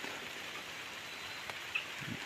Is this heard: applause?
no